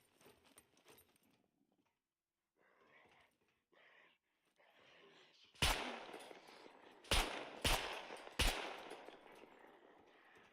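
Suppressed gunfire from the survival video game SCUM: four sharp, loud muffled shots, one alone and then a quick cluster of three, following quieter rustling and movement.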